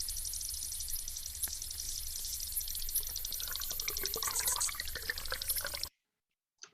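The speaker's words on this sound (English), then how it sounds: "all of those sounds are being recorded below the water" Underwater sounds from a lake picked up by a hydrophone: a constant faint watery hiss with scattered clicks and soft ticks, and some gentle tonal warbling toward the end before it drops to near silence.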